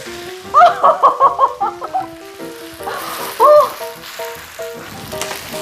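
Steady sizzling and crackling of a potato and onion pancake frying in a pan, with soft scraping and a brief louder sizzle burst midway as it is flipped.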